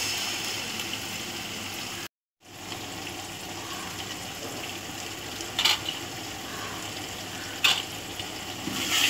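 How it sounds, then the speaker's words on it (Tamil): Ginger garlic paste is stirred into sizzling masala for a 2 kg chicken biryani, giving a continuous close fry and sizzle with a brief dropout and a couple of sharp scraping accents. "இதை நல்லா கிளறி விட்டுக்கோங்க"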